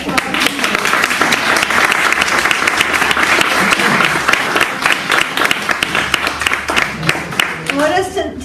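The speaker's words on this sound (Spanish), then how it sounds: "¿podemos aplaudir?" An audience at a book presentation bursts into sustained applause, dense clapping from many hands filling the room, close and loud, tapering slightly at the end as a voice begins.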